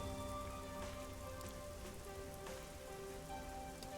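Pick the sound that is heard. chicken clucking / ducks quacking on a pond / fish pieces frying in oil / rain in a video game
rain in a video game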